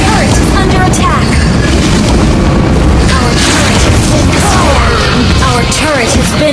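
Turret destruction in the Mobile Legends game: a loud, dense booming crash with sustained rumbling debris and overlapping effects, under a spoken announcement and game chatter.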